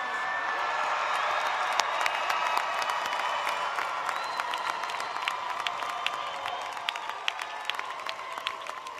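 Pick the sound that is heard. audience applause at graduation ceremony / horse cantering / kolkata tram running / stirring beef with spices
audience applause at graduation ceremony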